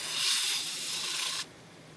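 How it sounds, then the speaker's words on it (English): A sustained aerosol spray of battery cleaner onto RV batteries hissing for about a second and a half, then cutting off abruptly into quieter background noise. "Spray a little bit of that battery acid stuff under here."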